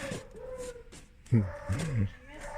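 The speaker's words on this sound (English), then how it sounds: "That's our crazy dog across the street." A neighbor's dog across the street gives a couple of short, gruff barking bursts, faint and distant.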